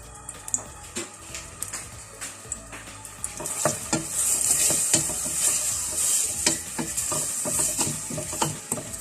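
Diced onions sauté in a little oil in a pot, giving a steady crackling sizzle broken by sharp clinks and scrapes of a utensil stirring, close and fairly quiet, building slightly in intensity midway.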